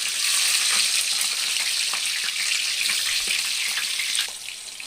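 Green chillies fry in hot oil with a loud, dense, continuous sizzle and crackle, close up, easing slightly near the end.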